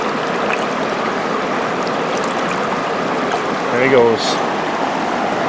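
Fast-flowing pocket water on the Black River in the Adirondacks, New York, rushes in a loud, steady, close roar that runs the whole time, with a brief spoken remark partway through.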